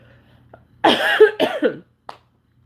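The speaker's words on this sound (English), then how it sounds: "I think I'm getting my son's cough" A short burst of coughing, two or three harsh coughs close to the mic, followed by a brief faint throat sound, otherwise quiet.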